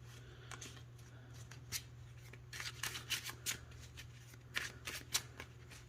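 A deck of cards being shuffled in several quick riffling bursts, close and crisp, with a faint steady hum underneath and no speech.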